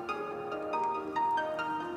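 A phone rings with a repeating electronic ringtone of short bright tones, fairly quiet and steady, with no talk over it.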